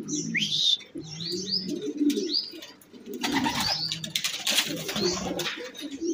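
Racing pigeons arriving during toss training: a flock cooing and chirping close by, with overlapping coos and tweets throughout and some wing flutter, no talk.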